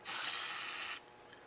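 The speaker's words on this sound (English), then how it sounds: "I'm going to spray it with a bit of penetrating oil inside the carburetor." Penetrating oil sprayed into the carburetor of a Homelite Super 2 chainsaw, a single close hiss of about a second that cuts off cleanly.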